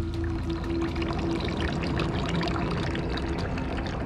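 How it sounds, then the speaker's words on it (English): Water poured from a bucket, a continuous splashing gush that runs steadily and fairly close throughout, with no talking. "Dennis then proceeded to pour that water down Helga Wagnig's throat."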